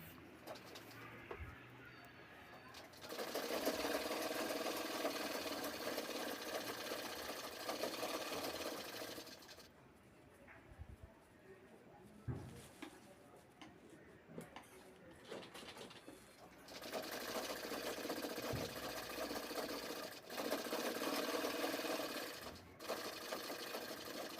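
A sewing machine stitches piping onto a bag made from a saree pallu, running in long loud whirring bursts separated by pauses, while pigeons coo faintly in the background.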